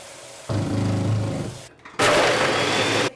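A kitchen blender whirs through a protein shake with a dash of cinnamon in two loud motor bursts, the first lower and rougher, the second sharper and stronger, separated by a brief pause.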